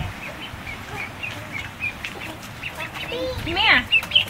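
Ducks quacking close by in a short burst near the end of the clip, with a child and an adult talking and background noise throughout.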